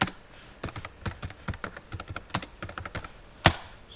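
Someone types on a computer keyboard, a quick irregular run of close, crisp key taps with short pauses, ending in one sharper keystroke.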